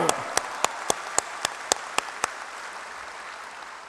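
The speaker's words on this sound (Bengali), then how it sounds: "আরো জোরে তালি দাও" A crowd at a university convocation clapping in unison, about nine sharp, evenly spaced claps in a quick steady rhythm that then stop, leaving a quiet hall.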